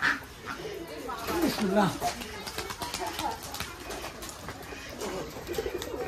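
Pigeons, including a pair of black birds, coo in a loft with other giribaj pigeons, their low rolling calls repeating close by while someone talks over them throughout.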